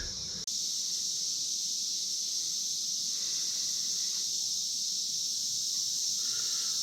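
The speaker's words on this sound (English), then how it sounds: "So that horrible noise you hear are the cicadas." A dense, high-pitched cicada drone fills the air continuously, loud and unbroken, with a few faint rustles beneath it.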